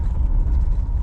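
A Plymouth Valiant, just tuned up and running low on fuel, driving and turning around, heard as a loud, steady low engine rumble and road noise from inside the car, no voices.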